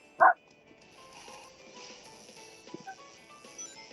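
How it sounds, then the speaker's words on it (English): A puppy gives a single short, sharp bark near the start, clear and fairly close, followed by quiet room noise and faint soft sounds. "I hear a happy puppy somewhere."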